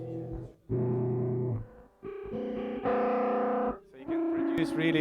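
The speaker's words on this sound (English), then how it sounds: "So you can produce really like a high variety of different tones. It almost can sound like as a tremolo." An Endorphin.es effects pedal at the Superbooth 2023 synth show produces sustained, distorted synth tones. Its heavy modulation gives a wavering, tremolo-like pulse, and the tone shifts in pitch and brightness across several loud phrases with short gaps between them.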